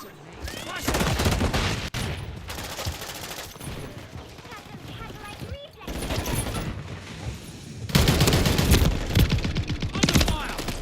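Dense automatic gunfire in a Modern Warfare 3 match, with loud rapid bursts coming in waves, a brief pause midway, then heavy sustained fire near the end, with voices underneath.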